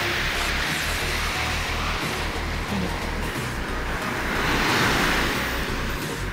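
Powerful surf surges in a dense, unbroken roar along the shore during fishing, swelling briefly louder midway, with heavy wind rumble across the microphone.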